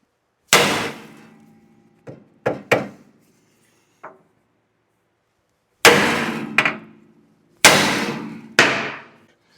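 Hammer blows land on the steel control arm taper of a Chevelle during a front suspension job, several loud, sharp metallic strikes in uneven clusters, some single and some paired, each ringing briefly.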